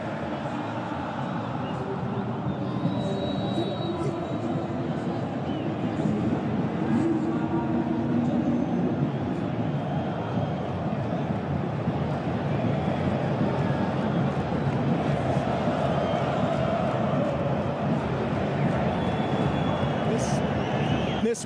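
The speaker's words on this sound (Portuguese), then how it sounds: "o som da torcida do Corinthians no estádio em festa pelo título brasileiro" Corinthians supporters in a stadium celebrating the Brazilian league title at the 2015 Corinthians vs São Paulo match, a steady, dense crowd roar that holds for the whole stretch without letting up.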